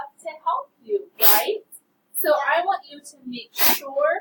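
A person sneezes sharply twice during a first grade math lesson in a classroom, each burst short and close, between a teacher's spoken explanation.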